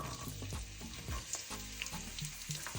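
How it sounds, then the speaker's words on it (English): Chopped onions sizzle loudly in a hot pan for an eggplant stew, a steady crackling fry with small pops and stirring scrapes, close and with no voices. "So first I'm going to add in my onions"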